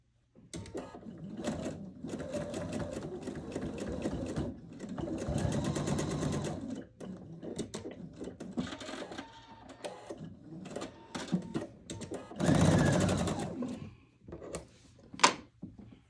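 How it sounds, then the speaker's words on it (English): A domestic sewing machine stitches a quilt in short bursts of whirring motor and needle clatter with pauses between runs, close and fairly loud, with no talk. "I just took one stitch right next to the last stitch I just took."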